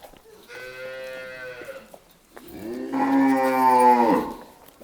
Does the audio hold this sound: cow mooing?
yes